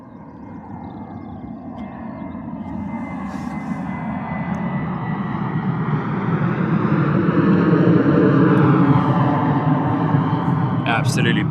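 An airliner rotating on take-off from runway 09 at Bristol Airport, a broad engine roar that swells steadily and peaks near the end, heard from a distance with a voice talking over it.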